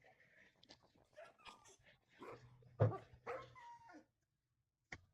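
Dogs in a video game bark, yip and whimper in a quick scattered series of short sounds, fairly close, followed by a pause and one last yip.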